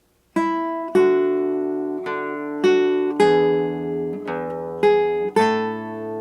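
Classical nylon-string guitar plays Joy to the World as a clear run of about eight plucked notes in a steady descending rhythm, each ringing on, solo and close.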